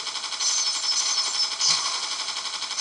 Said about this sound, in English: we're going to shoot at things in the sky